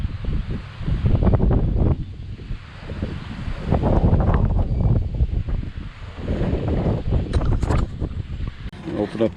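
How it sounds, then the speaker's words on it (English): Gusting wind buffets the microphone outdoors on a breezy day beside a 1956 Thunderbird, loud low rumbling swells rising and falling throughout, with a voice talking faintly under it. "I apologize for any wind noise."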